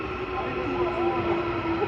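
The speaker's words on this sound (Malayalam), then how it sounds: "ഇതാണ് നമ്മുടെ ട്രെയിൻ." A subway train pulls into a station in Korea, a steady close rumble with a sustained whining tone lasting throughout, with faint voices mixed in.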